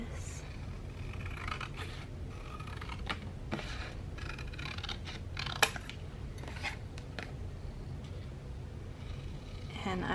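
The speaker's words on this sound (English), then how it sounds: "So I'm going to cut it" Paper being cut for a handmade journal card, a series of quiet, close crisp snips and rustles with short pauses between them and occasional soft handling sounds.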